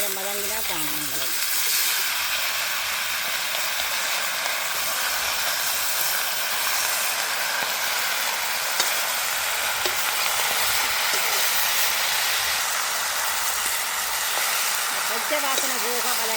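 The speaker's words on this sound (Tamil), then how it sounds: "நான் எடுத்து வச்சுருக்கிற தக்காளியை சேர்த்து வதக்க போகிறேன்." Tomatoes with curry leaves sauté in a hot pan, a steady loud sizzle and hiss with faint stirring scrapes throughout, and a voice briefly near the start and end.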